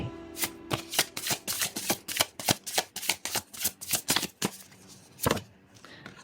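Tarot cards are riffled and shuffled close by in a rapid run of crisp, papery flicks, about a dozen quick bursts, then a final louder snap after a short pause.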